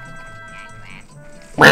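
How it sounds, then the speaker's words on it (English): A quack-like call from a turtle in the video game Majora's Mask, resembling a cartoon duck's quack, comes as one loud, sudden burst at the end after quiet tonal game music. "Sounds like the turtle is saying Aflac like the stupid fucking duck from the commercial"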